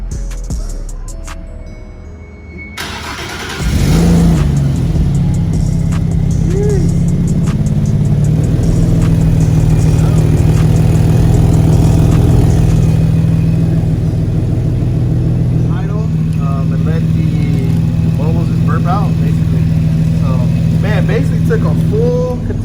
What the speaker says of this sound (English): I'm already turning the car on right now.